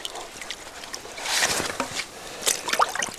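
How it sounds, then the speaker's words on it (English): A paddle scrapes and scoops mud from the shallow bottom of water while beaver trapping, with soft sloshing and trickling splashes in uneven bursts, fairly close and moderately quiet. "Dig that mud out of there."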